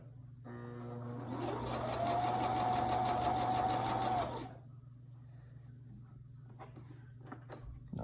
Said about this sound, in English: I'm going to back stitch where I end and lock that in place too